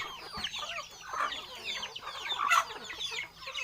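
Native Thai backyard chickens clucking softly and continuously, several birds murmuring at a moderate distance with a few sharper calls, no voices present.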